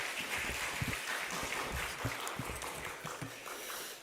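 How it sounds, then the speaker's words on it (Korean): A church congregation claps in welcome for a visiting pastor at a Sunday afternoon service, scattered but continuous applause from a modest crowd with uneven hand claps standing out, moderately near. "우리 박수로 환영하도록 하겠습니다."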